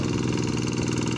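A G1000 Boxer plough tractor engine working a rice field, a steady close-up diesel chugging with even rapid pulses, loud and alone.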